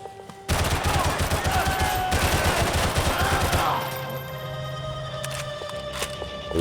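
Dense bursts of gunfire in the video game Max Payne 3 during a police station raid, rapid overlapping shots for several seconds that thin out into sparser reports and game ambience.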